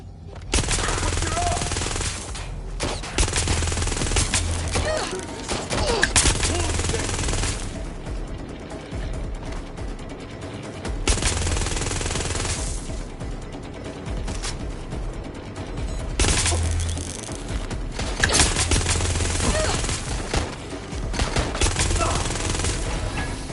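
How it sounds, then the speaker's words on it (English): Gunfire in Watch Dogs: Legion, sustained bursts of machine-gun and rifle shots in long rattling volleys with brief pauses, loud and close, with voices mixed in. "Shots fired!"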